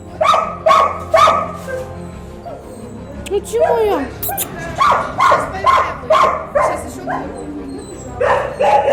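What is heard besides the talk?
dogs barking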